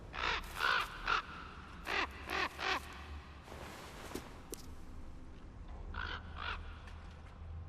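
Crow cawing in a video game: a burst of several loud, harsh caws in quick succession, a pause, then more caws and a softer trailing call over a quiet ambient background.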